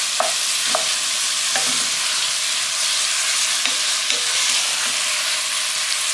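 Beef browns in a hot pan with a loud, steady sizzle, and a few soft clicks of stirring rise over the constant hiss.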